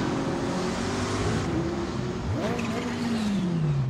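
A Ferrari GT race car in the RaceRoom racing game with a loud, steady engine drone that rises and falls in pitch as it revs, with a sweeping climb near the end.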